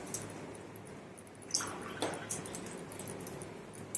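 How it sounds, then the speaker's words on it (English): Two cups of water poured from a kettle into a bowl for early settler bread dough, a faint splashing and dribbling with a couple of brief louder splashes, close by. "So I'm going to add 2 cups of water here."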